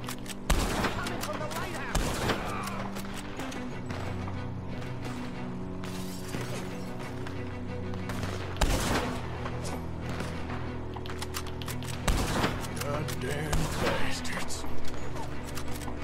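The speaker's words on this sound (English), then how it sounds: "Was shooting at me." Gunfire in Red Dead Redemption 2 during a fight with Pinkertons: a steady, dense fusillade of shots, some loud and close, others farther off, over continuous game ambience and music.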